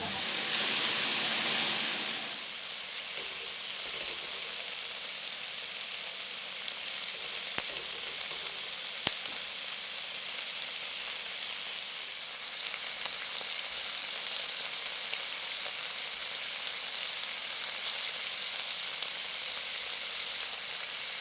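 Thinly sliced pork stir-frying in a pan, a bright continuous close sizzle that softens after the first couple of seconds, then holds steady, with a few sharp clicks of utensils.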